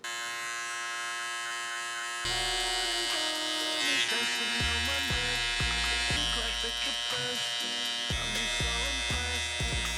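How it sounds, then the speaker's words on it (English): A barber's electric hair clipper, set to the zero with the lever fully closed, buzzes steadily while cutting the first guideline of a low fade, its hum shifting in pitch as it presses against the head, with faint voices in the background. "I'm gonna just use the 0. So just make sure that lever is closed all the way on the clipper."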